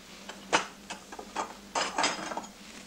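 A spoon scrapes and clinks inside a pot of simmered Stilton soup while fishing out a bay leaf, making a few scattered close metallic knocks and scrapes with quiet gaps between them.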